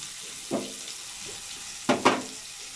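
Onions and tomatoes sautéing in a pan with a soft, low sizzle, broken by a few sharp stirring scrapes, the loudest two coming close together near the end.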